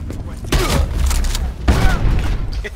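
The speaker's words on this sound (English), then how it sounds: "No, it triggered, but there's a tiny delay." A mesh mine blast and surrounding gunfire in Call of Duty Black Ops 4 multiplayer, two heavy booming bursts about a second apart, close and loud, with players talking over the action.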